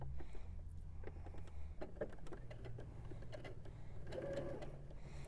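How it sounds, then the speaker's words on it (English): A sewing machine runs continuously, stitching a quarter-inch seam through a quilt block, with a faint, steady mechanical hum and rapid needle ticking heard close up. "And as this is sewing, it's pushing the top layer into the bottom one."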